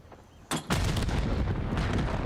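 Grenade blasts in a Call of Duty Search and Destroy match: a sharp explosion, then a second louder boom that rolls into a sustained, rumbling roar of debris and noise.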